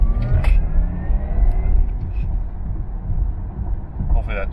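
A Porsche Taycan Turbo S electric car accelerating hard, a low road and motor drone with a faint rising electric whine, heard from inside the cabin.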